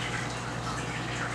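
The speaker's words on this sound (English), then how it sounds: "I'm just gonna pour half the milk in right now to start" Milk poured into a sweet potato pie mixture in a home kitchen, Bajan style, a steady, continuous close-up pour with no break and no voices.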